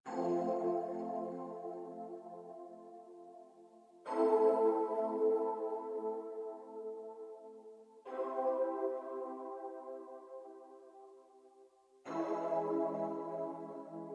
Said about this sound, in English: I also added in this little piano that plays in the background